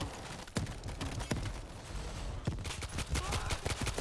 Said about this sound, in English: Fucking grenade launcher!